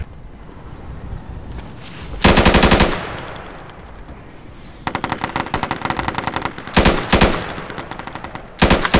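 Automatic gunfire in the SOCOM video game comes in several loud bursts of rapid, close shots, separated by quieter gaps of background noise.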